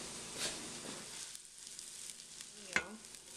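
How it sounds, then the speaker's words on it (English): Onions sautéing in a heavy skillet give a soft, steady sizzle, with a brief scrape or clink of stirring partway through. "Check on our sauteing onions."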